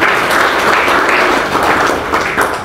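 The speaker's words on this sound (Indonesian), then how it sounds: "Kasih tepuk tangan itu dia" Congregation applause during a Christmas celebration sermon, a loud, full burst of many people clapping together, close and sustained with slight swells in intensity and no voices over it.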